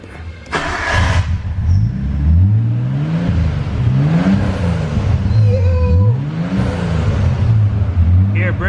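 A turbocharged car engine revs up and down repeatedly with a soda can held near the turbo intake, giving rising and falling whines and a whistly rush over a steady loud rumble, with a brief burst of voices near the start.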